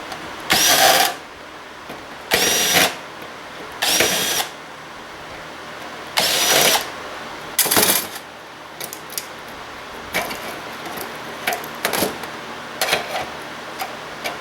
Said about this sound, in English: This is one of these cases where one of these long drill bits comes in really handy.